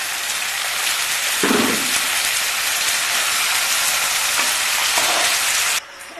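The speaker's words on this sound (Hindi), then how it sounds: "मैं इसमें आलू डाल दूंगी और नरम होने तक पकाऊंगी" Potatoes and browned onions fry loudly in a pan for aloo anday ki bhujia, a dense steady hiss with brief stirring bursts, cutting off abruptly near the end.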